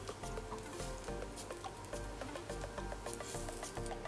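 Rolled dahi kebabs frying in a pan until browned and crisp, a quiet, continuous fine sizzle and crackle heard up close, with faint tonal music underneath.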